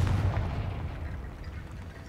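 Confringo fire spell cast in Hogwarts Legacy, a single booming fiery blast at the start that rumbles and fades into a low trailing roar.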